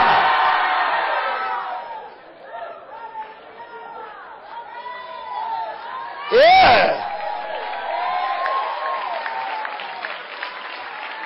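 A church congregation shouts together in a loud, sustained burst of voices, cheers and whoops that swells and dips, with one sharp spike of a shout midway over the steady crowd roar.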